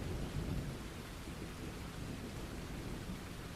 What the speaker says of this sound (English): let the sounds of the thunderstorm consume you